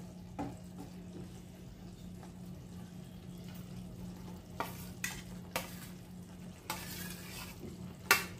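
Cooked rice stirred into a coconut and jaggery mixture for narali bhat: a few soft scraping strokes surface at irregular intervals over a low, steady background hum, with no one talking.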